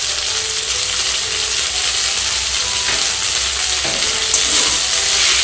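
Spices sizzling and frying in a pan while being stirred for a Bengali brinjal siraji dish, with a steady loud crackle throughout and occasional scraping from stirring, no voices.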